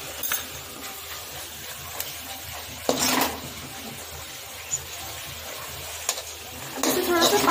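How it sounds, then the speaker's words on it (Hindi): Ginger, green chili and garlic paste fry in a pan with a low sizzle, broken by a few sharp spoon-on-pan clinks and scraping stirs, close by. "हम अदरक, हरी मिर्ची और लहसुन का पेस्ट डाल देंगे।"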